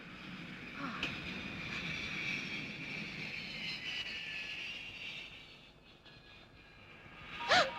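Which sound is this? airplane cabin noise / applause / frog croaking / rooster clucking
airplane cabin noise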